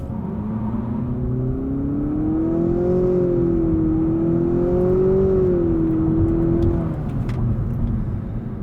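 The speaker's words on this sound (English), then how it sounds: "I'm going to brake, torque, release, and you're going to hear a lot of wheel spin" A 2020 Nissan Altima Platinum launches hard in DS mode with heavy wheel spin, its engine droning steadily and rising in pitch for about seven seconds before easing off, loud and close with no talking.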